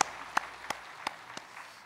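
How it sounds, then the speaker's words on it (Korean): A handful of evenly spaced single claps, faint and sparse, from a church congregation during a Sunday worship service. "박수를 하나님께 드리겠습니다"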